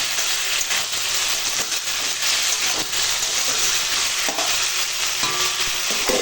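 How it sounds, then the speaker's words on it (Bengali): Pointed gourd and prawns sautéing together in a pan for a curry, giving a steady, close sizzle with stirring scrapes throughout and no talking. "এবার কষাবো এখন সব একসঙ্গে কষাবো"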